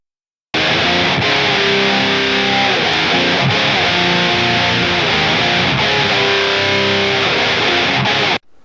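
Distorted electric guitar played through a freeware amp plugin with the low-frequency EQ adjusted, loud, dense chords ringing continuously for about eight seconds and then cut off abruptly.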